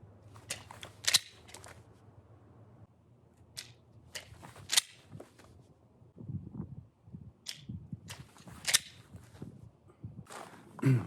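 A pistol is handled during dry practice of a stovepipe stoppage clearance, giving a series of sharp, close metallic clicks and snaps spaced irregularly, with softer rustling handling noise between them.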